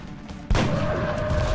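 Soldiers open fire in the XCOM: Enemy Unknown video game, a sudden loud burst of gunfire that breaks a quiet moment and rolls on as a sustained volley.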